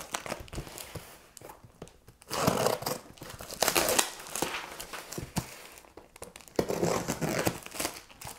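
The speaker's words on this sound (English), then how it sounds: "How about cutting the box itself? No problems with the cardboard." A Spyderco Stretch knife cuts through a cardboard box, making scraping, crunching, crinkling slicing strokes. The strokes are close, loud and irregular, with no talking.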